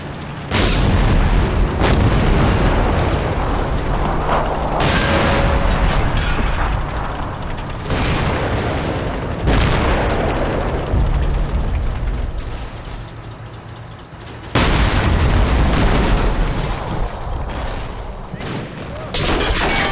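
Tank cannon fire and explosions in the WWII game Combat Mission: Red Thunder, with T-34s and a Panther trading shots: repeated heavy booms and blasts, several sharp and close, over a continuous rumble of battle, with no speech.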